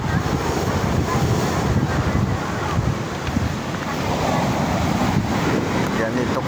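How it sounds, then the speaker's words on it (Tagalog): Big monsoon waves crash at a beach resort in Lemery as strong wind blows, making a loud, continuous roar of surf with wind buffeting the microphone throughout. "Hindi pwede magbangka ngayon mga kabaro kay malalaki ang alon ng habagat dito."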